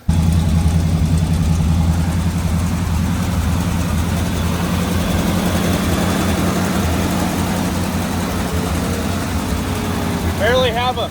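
A 1974 AMC Javelin V8 with its pipes on rumbles steadily and loudly up close, a deep throbbing exhaust note holding through the stretch with a slight rise near the end.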